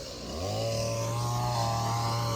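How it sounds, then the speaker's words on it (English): A wood carver's chainsaw at a show revs up and then holds a loud, steady buzzing drone from a short distance, with no talking over it. "our neighbor at the show is a carver, so you get to hear his chainsaw in the background"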